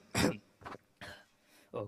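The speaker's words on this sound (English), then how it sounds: "could anyone please tell me what caused my coughing?" A speaker on stage at a live medical-student event coughs in four rough bursts close to the microphone, the first strongest, with short gaps between them.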